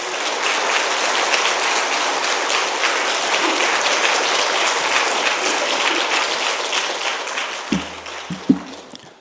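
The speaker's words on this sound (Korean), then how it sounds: "우리 박수로 목사님 맞이하겠습니다." An audience claps warmly to welcome a pastor at a Wednesday church dedication service. The dense applause holds steady, then fades into a few scattered claps and taps near the end.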